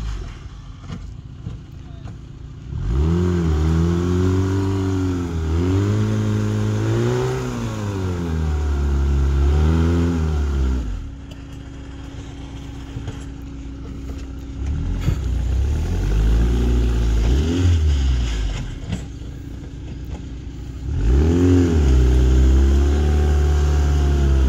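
Subaru and a Zaporozhets car on an off-road track, engines revving hard in long rising and falling surges with idle lulls between, loud and close, with voices talking in the background.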